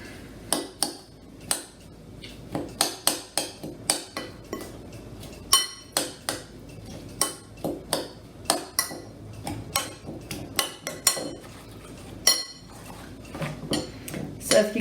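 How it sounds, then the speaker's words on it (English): A metal spoon stirs pepper into a pot of rice and bean topping, giving a rapid, irregular run of bright clinks and scrapes against the pot that continues throughout at close range. "some pepper, and stir it all up."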